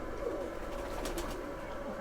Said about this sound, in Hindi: ये भी एज कबूतर है, काफ़ी उम्रदराज कबूतर है।